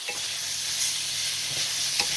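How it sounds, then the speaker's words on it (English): Tofu being mashed and stirred in a hot frying pan as part of a gluten-free potato lasagna filling, a steady close sizzle with a few soft scraping pushes and no talk. "I mash the tofu."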